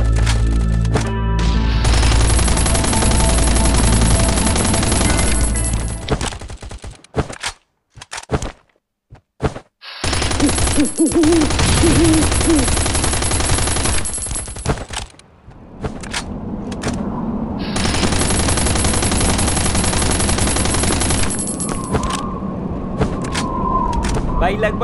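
Gunfire aimed at a tank in a survival video game, dense bursts of rapid shots that drop out briefly and resume, with loud blasts and continuous game noise throughout.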